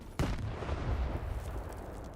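A grenade explodes in the Stalker 2 video game with one sudden deep boom, followed by a long rumbling decay that stays loud and fills the low end for about two seconds.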